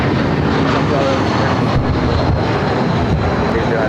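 A jet airliner takes off from Los Angeles LAX airport, its engines a steady, broad roar that holds for several seconds, with air traffic radio voices speaking over it.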